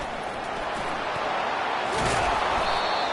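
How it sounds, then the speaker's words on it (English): A packed football stadium crowd roars in a steady, dense wash of noise during the early going of a game, swelling slightly louder toward the end. "Listen to the crowd energy here in the early going."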